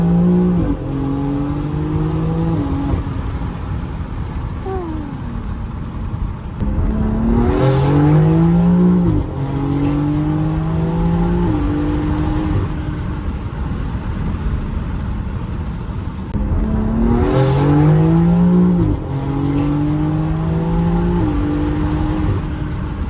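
BMW X4M with S58 engine on a flex fuel kit doing full-throttle pulls, loud engine revving up through gears in repeated climbing sweeps with shift breaks, close and alone.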